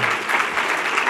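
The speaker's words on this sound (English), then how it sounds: "Let's give them a round of applause." Audience at a bike summit lunch plenary bursts into steady applause, a dense wash of many hands clapping at close-to-moderate distance, sustained and even throughout with no voices standing out.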